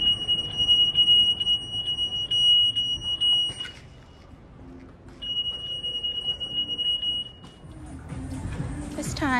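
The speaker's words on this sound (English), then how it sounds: "I am going to return the cart so I didn't set off the alarms." A store security alarm set off by a shopping cart gives a loud, piercing high beeping tone in two long sustained bursts with a pause between, over shop bustle and a person talking nearby.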